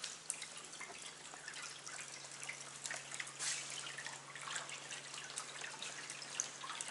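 Food-coloured water sprays and drips from a test sprayer built for a large indoor water feature, a faint, steady patter of droplets with no voices.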